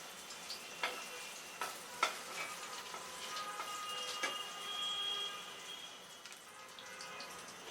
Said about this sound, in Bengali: ছোট ছোট করে ভেজে নিতে হবে এগুলোকে আর কি।